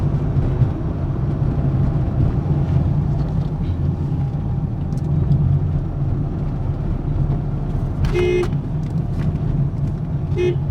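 Steady engine rumble of a car moving at a constant pace in second gear on a highway, with a brief higher-pitched horn-like beep near the end.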